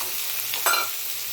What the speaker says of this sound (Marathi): आणि अर्धा चमचा आलं लसूणची पेस्ट सगळं चांगलं परतून घेऊया